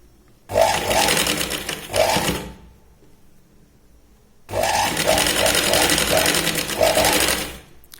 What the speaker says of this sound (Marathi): या पॉइंटला एकदा शिलाई आणि परत आपण याला डबल शिलाई लावून घेतोय.